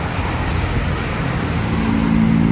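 A PMTOH intercity bus on the Banda Aceh to Bandung route rumbles in with a steady low engine drone and road noise, growing slightly louder and humming more strongly as it pulls up close.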